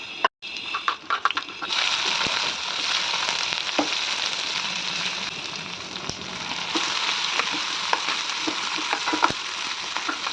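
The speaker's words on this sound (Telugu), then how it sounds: "తాలింపుకి తాలింపు దినుసులు వేసుకోండి" Hot oil sizzles steadily at close range, with scattered crackling pops, as tempering spices fry in a pan for an okra curry; no one speaks.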